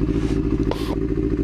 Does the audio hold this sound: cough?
no